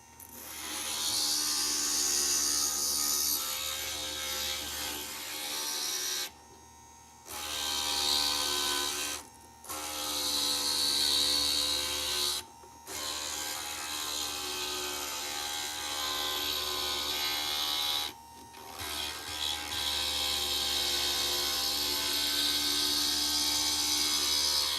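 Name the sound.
grinding stained glass pieces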